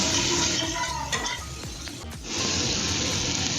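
Tomato is stirred into spices frying in a pan for a Bengali vegetarian dish, giving a steady close sizzle with scraping stirs and wet bubbling. The sizzle briefly softens in the middle, then returns full.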